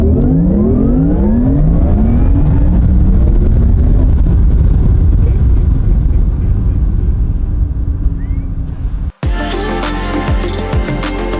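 A Porsche Taycan electric car drives and accelerates. A loud rising whine sweeps upward repeatedly under strong road and wind rumble, then cuts abruptly to a different, quieter background.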